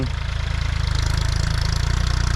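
A tractor's heavy diesel engine idles and chugs steadily nearby on a canal-side road, a low rumbling throb that holds constant without pause.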